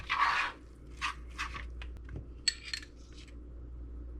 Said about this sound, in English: Going to keep mixing until we get the consistency we want.